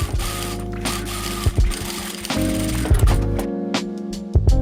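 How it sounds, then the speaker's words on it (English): A sewing machine stitches the long seam of a fabric bag handle in short mechanical bursts, a rapid clattering run broken by brief pauses and clicks as the fabric is guided. "Sew along this edge with a 1 cm seam allowance."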